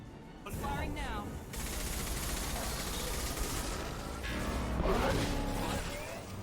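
Weapon fire in Mass Effect 2 Legendary Edition, a sustained, rapid stream of shots with mechanical clatter and combat noise that stays loud for several seconds, with voices faintly underneath.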